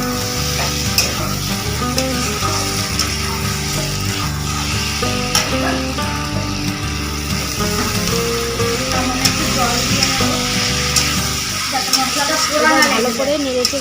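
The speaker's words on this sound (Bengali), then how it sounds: "এবার বেগুন আর আলু ভাজাগুলো মশলার মধ্যে দিয়ে দিলাম। এবার একটু ভালোভাবে নেড়ে নেব।" Fried eggplant and potato pieces being stirred through a spice paste in a pan while cooking dry fish, with steady sizzling and scraping over a constant low background drone.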